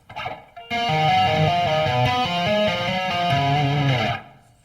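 Slow distorted electric guitar notes ring out in a sustained, shifting melodic line for a few seconds before fading.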